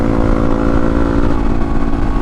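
A relatively slow motorcycle on knobby tires leans through corners on a ride out to a farm, its engine droning loud and steady with a continuous mid-pitched hum and no talk.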